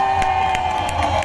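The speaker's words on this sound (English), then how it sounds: "I want a rambunctious applause and response." A street crowd at Barbados' Crop Over festival cheers and claps in a brief, steady roar with scattered sharper bursts.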